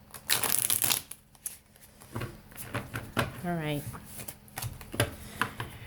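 Tarot cards riffle and shuffle in quick, papery bursts close by, with a person talking over much of it.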